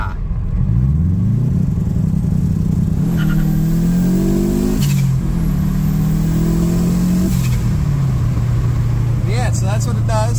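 A Toyota Corolla with a turbo engine and an external wastegate venting through the hood, revving up and down in several loud, close rising and falling pulls, with a voice speaking over it.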